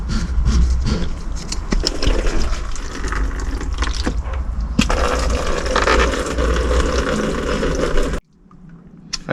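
Coolant gushes steadily from the radiator of a Honda VFR800 VTEC motorcycle, a continuous close splashing pour that stops abruptly near the end, leaving quiet.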